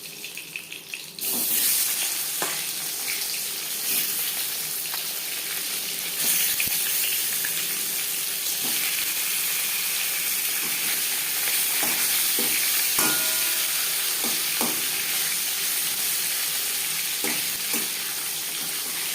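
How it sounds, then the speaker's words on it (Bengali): Pieces of silver carp fry in hot oil, giving a steady loud sizzle with scattered crackles and pops that starts abruptly after a brief quieter moment and continues close up without talking. "এবার মাছ ভেজে নেব।"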